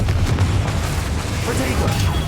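A Confringo blasting spell detonates in Hogwarts Legacy, a loud, rumbling explosion that fills the whole moment with a continuous boom.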